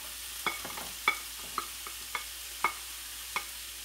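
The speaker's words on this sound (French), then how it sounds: "Et là je rajoute mes carottes." Carrots are stirred in a frying pan over a low sizzle, with sharp scraping clicks of the utensil about every half second, close and fairly quiet.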